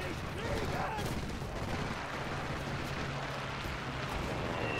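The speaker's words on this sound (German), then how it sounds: "Man knallt mich schon jemand ab." Gunfire in the WWII shooter game Enlisted, a dense continuous wash of shots and explosions from the game's battle, steady and moderately loud throughout with no clear gaps.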